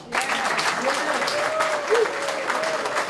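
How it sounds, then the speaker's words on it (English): Applause from the crowd at a multicultural unity event in New York, greeting an honoured bridge builder; steady clapping throughout, with a few cheers or whistles rising above it. "Round of applause for the greatest bridge builder in the city of New York, Marco Pell."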